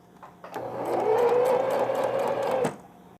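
An electric sewing machine stitches baby underwear fabric in a home setting, a steady whirring hum that starts abruptly, runs for about two seconds and cuts off cleanly, heard close and alone.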